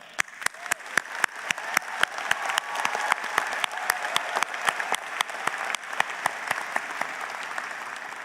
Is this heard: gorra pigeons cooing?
no